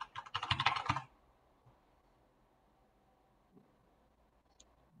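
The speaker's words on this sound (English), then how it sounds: "I might just type it, might be easier." Quick, close keystrokes on a computer keyboard clatter for about a second, then stop, leaving a near-silent room with a couple of faint clicks.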